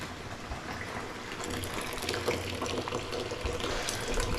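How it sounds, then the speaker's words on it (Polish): Water gushes steadily into a container on a building site in the Philippines, to be used for mixing concrete; a continuous, fairly loud splashing fill with no voices. "Darmowa woda się napełnia, ona jest używana do mieszania betonu."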